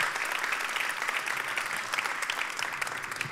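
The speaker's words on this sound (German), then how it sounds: "Ja, das ist dein Applaus." Audience applause at a startup award ceremony, steady and sustained clapping filling the room for a few seconds without pause.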